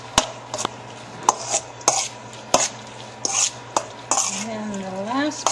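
Salmon cake mixture being stirred in a bowl: a series of sharp utensil clacks and scrapes against the bowl at irregular intervals, close up, with a brief hum of voice near the end.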